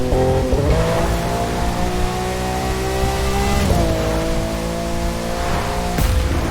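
A Lamborghini Aventador LP700-4 engine in the video game The Crew 2 revs hard and shifts up through gears, the pitch climbing then dropping at each change, loud and continuous with a brief squeal.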